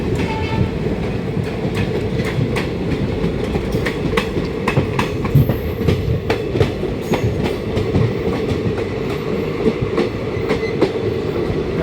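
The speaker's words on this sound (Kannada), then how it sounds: "ನಮ್ಮ ಟ್ರೈನ್ ಇಲ್ಲಿ ಹೊಂಟದ ಈಗ." A passenger train pulling out of Gadag railway station: a steady low rumble with rhythmic clickety-clack of wheels over rail joints, fairly close and continuous, with no talking.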